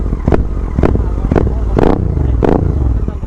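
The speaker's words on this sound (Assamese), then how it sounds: "ৰেড ষ্টাৰ পাৰফৰ্মেঞ্চ একবাৰ চাউণ্ড শুনাই দি আছোঁ" A Royal Enfield GT 650 motorcycle fitted with a Red Star performance exhaust revs up close by in five sharp throttle blips, each rising over a steady, rumbling idle.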